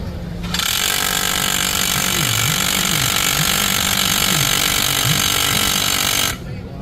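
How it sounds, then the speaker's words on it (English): A loud power drill bores a 3/8-inch hole into a concrete wall in one sustained burst of several seconds, harsh and close, with a wavering low hum, then cuts off abruptly. "I'm gonna drill right into the wall."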